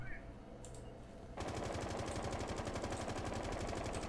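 Rapid automatic gunfire from Rainbow Six Siege. A fast, even burst of shots starts abruptly after a quiet stretch and keeps going to the end, loud and close.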